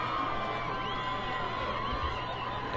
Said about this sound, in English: Yeah, the crowd is coming alive.